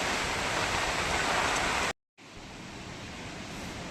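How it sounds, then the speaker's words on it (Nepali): Strong wind roars steadily across a riverside camp during heavy rain, a loud continuous rushing that cuts out briefly near the middle before resuming slightly softer. "त्यही त हावा डरलाग्दो आउँदैछ"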